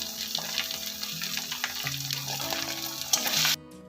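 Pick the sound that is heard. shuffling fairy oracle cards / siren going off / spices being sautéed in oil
spices being sautéed in oil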